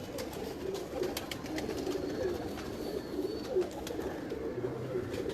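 Breeder pigeons coo in repeated soft, rhythmic phrases at moderate distance, layered over a constant background hum with occasional faint clicks and rustles.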